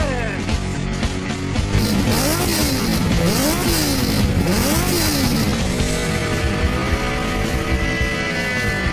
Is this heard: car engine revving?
yes